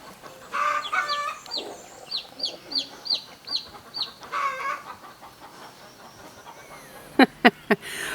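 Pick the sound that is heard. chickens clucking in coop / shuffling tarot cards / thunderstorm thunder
chickens clucking in coop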